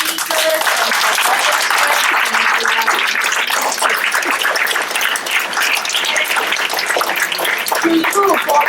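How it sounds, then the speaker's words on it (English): Sustained audience applause at a post-election public forum, a dense, loud wash of clapping throughout with no pauses. "So a bigger round of applause for speakers"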